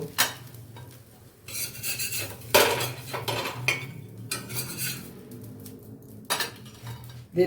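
A metal spatula scrapes and clinks against a tawa and a plate while fried bread is flipped and lifted, giving close, sharp irregular clatters and rasping scrapes over a low background hum.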